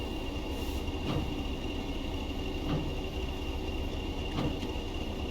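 Overweight train running in Train Sim World, a faint steady rumble of the train rolling along with a few soft periodic clicks from the track.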